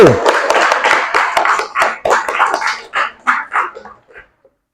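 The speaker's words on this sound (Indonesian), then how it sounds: "Kasih aplaus untuk kelompok 1." A classroom group claps for a student team, brisk overlapping handclaps that thin out into a few scattered, separate claps before stopping.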